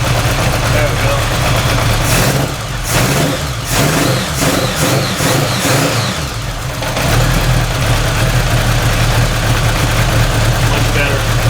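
A car engine idling after a cold start with a single carburetor installed, a steady loud rumble that dips briefly as the revs shift, then settles back to an even idle.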